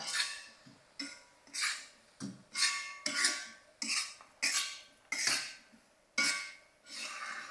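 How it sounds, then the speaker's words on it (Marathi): Potatoes being stirred with a besan (gram flour) masala in a pan, a spoon scraping and clinking against the metal in a steady series of about ten close strokes, with no talking. "आता आपण जो तयार केलेला मसाला होता ना बेसनचा तो टाकायचा आहे आणि परतवून घेऊया"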